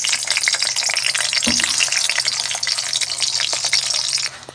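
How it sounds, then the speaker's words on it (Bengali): Steamed egg pieces frying in hot oil in a wok, for a spicy steamed egg curry: a loud, continuous sizzle with crackling pops and one dull clunk early on, fading off right at the end. "এবারে কড়াই যে তেল রয়েছে এই তেলের মধ্যে ভাপা ডিমগুলো ভেজে নিই।"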